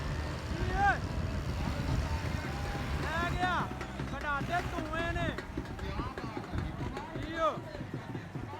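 A New Holland 480 tractor strains in a pulling contest, its engine a steady low rumble under loud, continuous crowd chatter and shouting.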